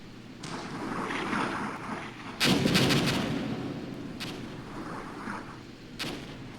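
Artillery thunders in the Armored Brigade war game, with heavy booming blasts over a continuous low rumble, the loudest near the middle and fainter blasts after.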